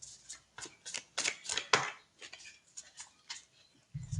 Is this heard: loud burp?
no